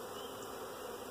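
Honeybees from a package swarm around a new hive during installation, giving a steady, dense buzzing drone close by with no voices.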